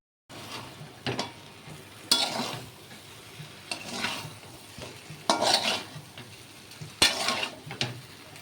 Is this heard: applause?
no